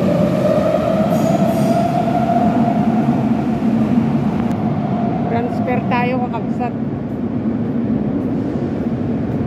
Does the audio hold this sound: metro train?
yes